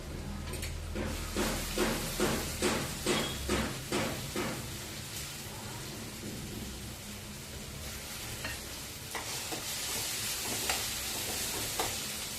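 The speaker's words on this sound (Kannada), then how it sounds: "ಫ್ರೈ ಆಗಲಿ 2 ನಿಮಿಷ." Soaked moong dal with turmeric frying in a pan, sizzling steadily throughout with a run of rhythmic stirring scrapes early on and a few later clatters.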